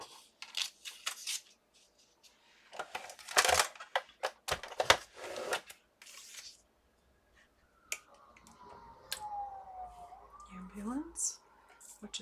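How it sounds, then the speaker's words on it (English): An ambulance siren passes at a distance, its faint wailing tone falling and then rising over several seconds amid close, sharp clicks and rustling from nearby crafting work. "Ambulance, which is a rarity here."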